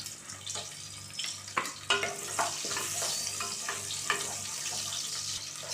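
Fifteen slit shallots hit hot oil with cinnamon in a pressure cooker, giving a steady close sizzle and crackle with scattered sharp clicks from stirring.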